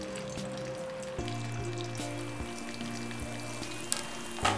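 Grated ginger sizzles steadily in hot oil in a pan, a continuous crackling fry with a few louder spatters near the end and no talking.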